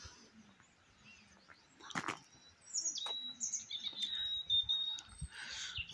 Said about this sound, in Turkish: Kuşlar da ötüyor işte.